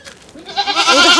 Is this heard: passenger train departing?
no